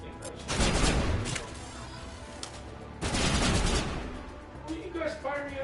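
Bursts of gunfire from Mass Effect Legendary Edition during a fight with the Geth, two long loud volleys with a short pause between them, then scattered quieter shots, with talk underneath.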